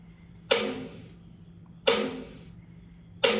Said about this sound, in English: This is a mailbox hit,